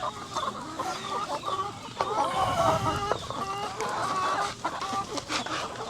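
Backyard chickens in the Philippines cluck steadily while pecking at a jackfruit snack, with overlapping close and mid-distance calls forming a busy, continuous chorus and no talk over them.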